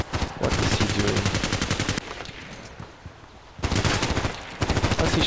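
Fast automatic gunfire rattles in the video game Contract Wars, loud sustained bursts broken by a quieter stretch of scattered distant shots before the firing resumes.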